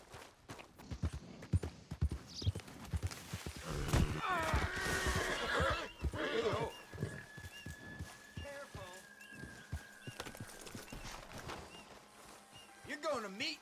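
Horse whinnies and clip-clopping hooves from Red Dead Redemption 2, with a neigh rising around four seconds amid game effects and someone talking over much of it.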